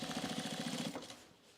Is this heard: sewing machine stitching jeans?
yes